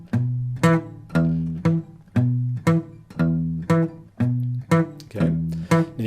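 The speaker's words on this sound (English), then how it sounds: "I'm after what is sometimes described as a boom chick sound." Acoustic guitar played in Travis picking style with a thumb pick, alternating bass notes against chords in a steady boom-chick rhythm, about ten evenly spaced plucked strokes, clear and close with no talking.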